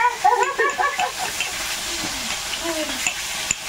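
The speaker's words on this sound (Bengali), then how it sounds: "মাছ কটা ভাজলেই হয়ে যাবে" Steady hiss and crackle of fish frying in hot oil, continuous and close, with faint clinks of stirring.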